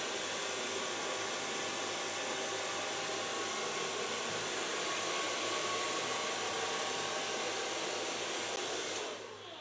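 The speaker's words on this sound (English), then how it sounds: "Dat is zoveel blow drying." A hair dryer blows steadily on hair, a loud continuous rushing whoosh that holds even for nearly ten seconds before easing slightly at the end, with no voices.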